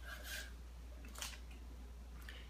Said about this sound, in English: you just cut those little bits out